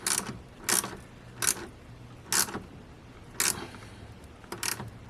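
A ratchet tightens a bolt during an alternator replacement on a BMW X5 35d, giving six short, sharp clicking bursts spaced about a second apart, close and fairly quiet with no talk.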